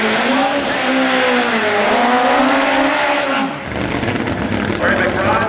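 A nitro-burning Kawasaki drag motorcycle of over 1,000 horsepower does a long tire-smoking burnout at a drag strip, a loud sustained high-revving engine wail that rises and then cuts abruptly, with a commentator talking over it.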